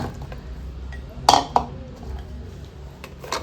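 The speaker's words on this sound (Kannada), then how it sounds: "ಒಂದು ಕುಕ್ಕರ್ ತಗೊಂಡು ಅದಕ್ಕೆ ಹಾಕ್ಕೊಳ್ಳೋಣ" Double beans tipped into a metal pressure cooker for a curry, giving two sharp, close metallic clinks against a quiet kitchen background.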